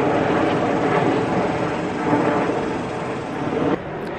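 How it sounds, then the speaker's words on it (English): A loud, broad engine roar from an airplane passing overhead fills the whole stretch, steady and washing across before dropping off slightly near the end. "Goddamn aeroplane."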